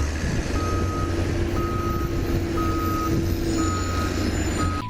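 A toy cement mixer truck sounds steady reversing beeps at a regular rhythm over a continuous low hum and noisy background, with no talking.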